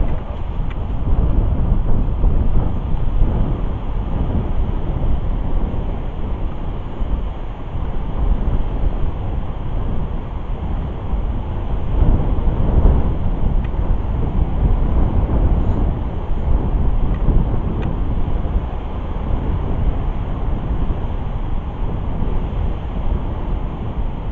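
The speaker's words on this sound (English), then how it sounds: "Kind of hoping this wind's not going to affect the audio" Steady wind buffets the microphone at a lake shore in a state park, a constant low roar with gusty swells and no pauses, loud and close throughout.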